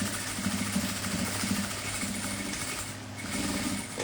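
A sewing machine stitches through the bulky layers of a double-zip fabric pouch: a steady motor hum with rhythmic needle pulses that briefly ease off midway, then pick up again.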